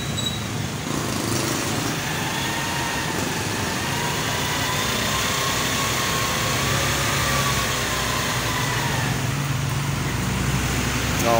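An engine held at about 4,000 RPM, a steady droning roar that stays even throughout, loud and close, with faint voices underneath.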